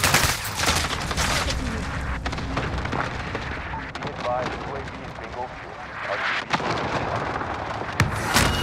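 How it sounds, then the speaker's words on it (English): Gunfire in Call of Duty Cold War Warzone, dense continuous bursts and blasts throughout with game voice callouts over the shooting. "Receiving hostile fire."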